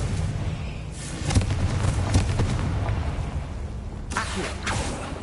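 A Confringo spell bursts in Hogwarts Legacy with booming blasts over a steady rumbling background, one strong hit early on and another burst near the end.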